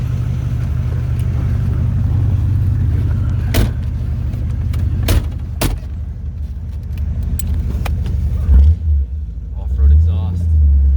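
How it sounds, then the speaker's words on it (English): A Chevrolet Corvette roadster with an original 327 V8 and off-road exhaust idles with a deep low rumble, over loud speech and some clunks, swelling into heavier throbbing bursts near the end. "Off-road exhaust. Sounds good,"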